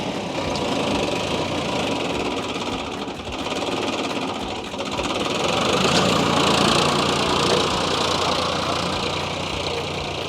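A tractor engine runs with its RPM raised, a steady loud mechanical drone with a slight rise in intensity midway, heard close and continuous without speech.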